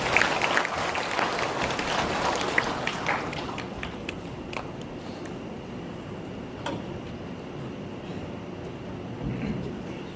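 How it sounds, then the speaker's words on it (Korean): An audience at a high school admissions information session breaks into loud applause that gradually thins into scattered claps and fades out. "모두들 큰 박수로 맞이해주세요."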